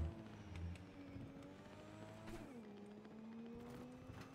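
A car is driven in Cyberpunk 2077, its faint engine whining and rising and falling in pitch as it accelerates and shifts, heard quietly without talk.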